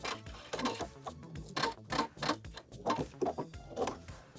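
A sewing machine runs an edge stitch through the layered hem of a lined blazer, a close, rhythmic ticking chatter in short bursts with brief pauses, as for a backstitch.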